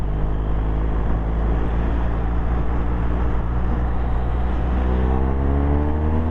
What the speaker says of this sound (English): Acceleration!